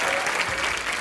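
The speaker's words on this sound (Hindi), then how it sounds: "अर्जुन रामपाल और विद्या बालन के लिए जोरदार तालियां।" Studio audience applause on a TV comedy show, a thick burst of many hands clapping at close range, continuous and loud for about a second.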